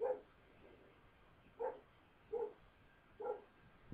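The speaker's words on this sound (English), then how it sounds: "My dog's going off on something." A dog at home barks at something, giving four short, sharp barks spaced unevenly over a few seconds, fairly close, with nothing else in the background.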